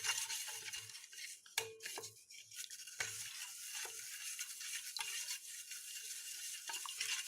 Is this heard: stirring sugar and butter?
yes